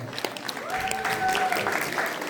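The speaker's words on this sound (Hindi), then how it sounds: "एक जोरदार तालियां हो जाए" Audience at a Diwali gathering applauding a children's class and its teacher, scattered claps building into a fuller wash of clapping, with a faint voice or tone briefly audible beneath.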